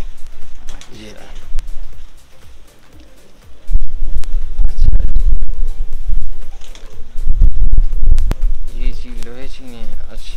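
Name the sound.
pigeons of Ustad Ikhlaq Khan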